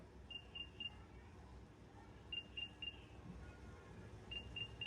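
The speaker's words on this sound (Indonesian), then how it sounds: "nanti dia akan mengeluarkan suara alarm kayak gini" A TWS earbud find-my-earphone alarm beeps faintly in short bursts of three high electronic tones, repeating about every two seconds over a quiet background.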